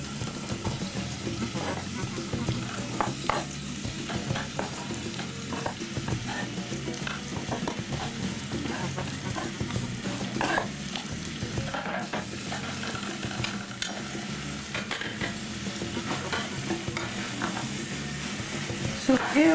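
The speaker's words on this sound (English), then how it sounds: "this time to add your onion and shallot." Onion and shallot sizzle steadily in a pan with frequent scraping stirs, a close, continuous frying hiss throughout.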